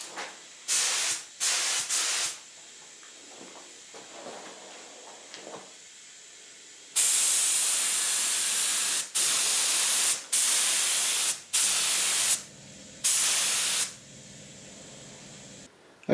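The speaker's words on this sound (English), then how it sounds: "just give this a couple of coats of lacquer" Aerosol lacquer sprayed onto a Telecaster guitar headstock, with short hissing bursts and then longer steady sprays, each one starting and stopping sharply, close and loud with quiet gaps between them.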